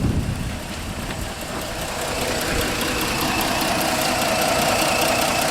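2008 Jeep Grand Cherokee engine idling with one fuel injector dead, an uneven, knocking rumble heard close and steady with no talk.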